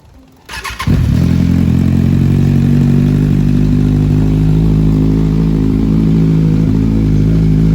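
A Kawasaki ZX-10R SE sport motorcycle engine cranks and fires up within the first second, then settles into a loud, steady, close-up idle rumble that runs without interruption.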